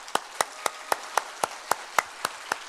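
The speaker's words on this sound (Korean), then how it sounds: "이 시간에 우리 먼저 인사 한번 드리시고 뜨거운 박수로 맞이하겠습니다" Church congregation at a Friday worship service clapping in slow unison to welcome a preacher, about ten sharp, evenly spaced claps that ring out clearly in a quiet hall.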